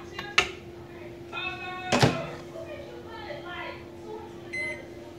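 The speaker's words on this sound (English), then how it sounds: "I'm going to put it in the microwave" A microwave oven door thunks open, a bowl of oatmeal is set inside and the door shuts, followed by a couple of keypad beeps, with people talking throughout.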